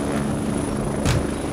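A helicopter in the military shooter game Squad hovers with a steady, loud rotor drone that swells briefly, with no talk over it.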